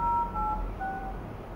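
Telephone dialing tones from a CHUWI V10HD tablet sound as a few short, clean keypad beeps in quick succession, close and clear.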